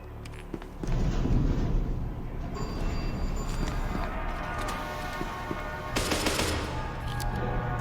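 Rapid bursts of gunfire from the video game SCP Secret Laboratory, dense and continuous over several seconds with a louder crackling burst near the end, no talk.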